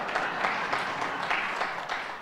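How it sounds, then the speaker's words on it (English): An audience at a leadership talk in South Africa applauds, a steady, dense clapping that fills the whole moment without a break. "Applause."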